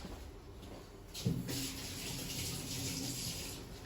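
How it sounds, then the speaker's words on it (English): A kitchen tap runs steadily into a sink as flour is rinsed off hands, a close, continuous hiss of water with a brief splashy surge where the hands move under the stream, no talking. "I just need to rinse the flour off my hands."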